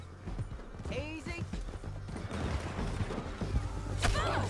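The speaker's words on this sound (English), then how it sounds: "Get him on your horse." Horse hooves clip-clop at a gallop in the video game Red Dead Redemption 2, a steady rhythmic drumming over a wash of in-game ambience and faint voices.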